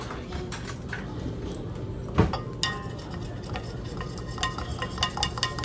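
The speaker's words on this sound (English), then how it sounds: "Let me just mix my tea up real quick" A spoon stirs tea in a cup, giving rapid, close clinks and scraping ticks against the sides, with one sharper knock partway through.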